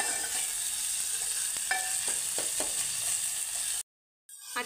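Onion and ginger-garlic paste sizzle in a pan for fish curry as tomatoes go in, with a few soft stirring clinks over a constant frying hiss. The sound cuts out briefly near the end.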